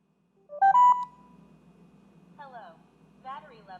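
An e-bike mesh intercom unit switches on with a short, clear rising electronic beep chime, followed by faint chirpy sounds amid low background hum.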